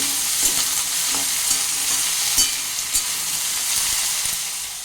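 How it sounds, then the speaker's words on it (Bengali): Eggplant pieces and foraged greens stir-fried in a pan, with a steady sizzle and repeated scraping stirs of a utensil against the pan, no voices. "এর মধ্যে এই বেগুন বেগুনের টুকরোগুলো সব দিয়ে দিচ্ছি দিয়ে এবার এটাকেও মিনিট দুই নাড়াচাড়া করে নেব"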